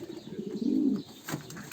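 A pigeon gives a soft, low coo, one rounded burst followed by a fainter murmur, close but quiet.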